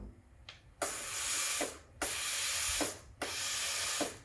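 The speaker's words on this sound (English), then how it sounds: "push it down, it will clean itself by purging 5 times" A Breville Oracle Touch BES990 steam wand purges itself clean with loud, sharp bursts of hissing steam, about four blasts in a steady rhythm separated by brief pauses, close and alone.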